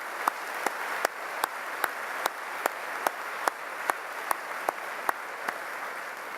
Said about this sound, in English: Can you give a big applause for all our honor students?